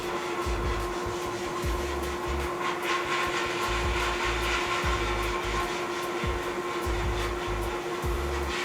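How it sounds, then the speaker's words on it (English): A sandblasting cabinet runs with its dust collector pulling media out of the blasting chamber, giving a constant loud blowing roar with a steady hum and rhythmic low thumping pulses, close and uninterrupted. "that dust collector is moving all of this media out of the blasting chamber"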